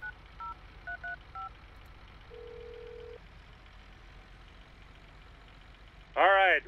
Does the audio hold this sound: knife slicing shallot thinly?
no